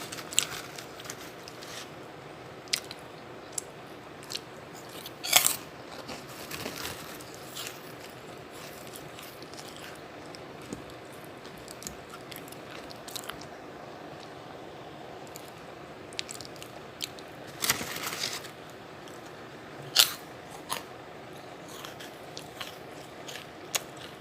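Crunchy meringue cookies being eaten up close, with sharp, scattered bites and crackles standing out against a quiet background and soft chewing in between, without talk.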